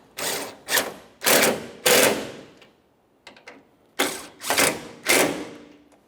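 Tailgate mounting bolts on a 2004-2008 Ford F-150 are snugged up with a power tool, in several close, loud bursts of rapid rattling impact with short pauses between them.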